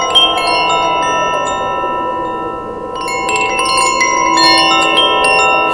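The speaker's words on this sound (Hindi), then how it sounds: "उसने उत्सुक होकर हाथ बढ़ाया और घंटी को छू लिया।" A small hanging bell tied with red cloth rings when touched in cold mountain air, its bright sustained tones shimmering and overlapping, fading slightly midway before swelling again with fresh strikes.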